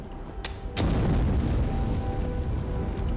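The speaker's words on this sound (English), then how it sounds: "I can use a grenade." A grenade goes off in the video game Avowed. A sharp crack is followed by a loud, sustained rumbling roar that fills the rest of the moment, with no voices over it.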